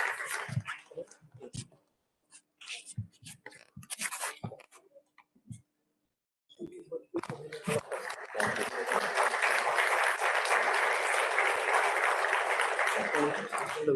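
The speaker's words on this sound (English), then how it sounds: "A huge round of applause for the winners." An audience applauds competition winners at a celebration event, starting with scattered claps and brief talk, then swelling into loud, sustained clapping for the last several seconds.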